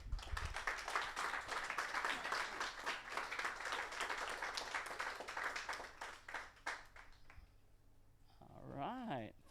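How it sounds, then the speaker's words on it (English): An audience claps steadily for several seconds, the applause thinning out before a voice starts speaking at the end. "So big applause for Dave."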